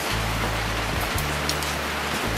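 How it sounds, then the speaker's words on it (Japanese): Heavy rain pours steadily at night onto a steel-pipe storage shed, a dense continuous roar of drops on the roof with a low rumbling hum underneath, loud and unbroken. "激しい雨が降ってます。"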